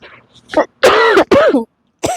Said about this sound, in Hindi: सॉरी, खांसी अभी बंद नहीं हुई